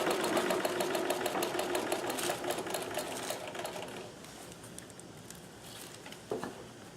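A Singer 237 sewing machine runs a straight stitch with embroidery thread, a close rapid mechanical patter for about four seconds before it slows and stops, leaving a faint hum and a single click.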